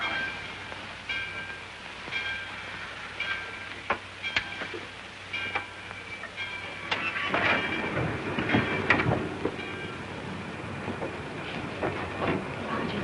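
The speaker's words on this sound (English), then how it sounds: "the train's moving" A steam-era passenger train from the 1940s starts to roll along the rails, its carriages clanking and rattling with rhythmic clicks that build as it gathers motion, with no talking over it.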